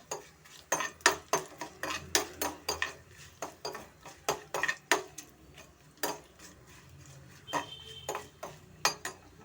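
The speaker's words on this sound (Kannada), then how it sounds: "ಗೋಡಂಬಿಯನ್ನು ಚೆನ್ನಾಗಿ ಫ್ರೈ ಆಗಬೇಕಾಗುತ್ತೆ" Cashews are stirred while frying in a pan for bisi bele bath. A utensil strikes the metal pan in a repeated clacking rhythm, close and fairly quiet, with no clear sizzle.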